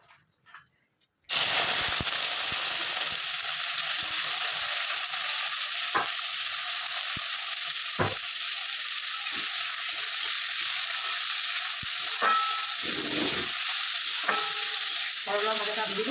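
Sliced bitter gourd hits hot oil in a pan after a brief silence, then sizzles loudly and steadily, with occasional spits and crackles.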